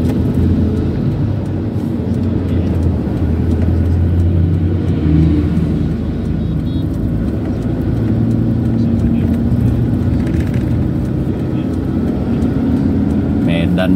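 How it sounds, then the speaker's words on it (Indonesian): A Luxo bus of the Putra Pelangi line drives along the east Sumatra highway in the morning, its loud engine rumble and road roar steady throughout while someone talks over it. "Di depan ada satu unit Luxo Bus Putra Pelangi."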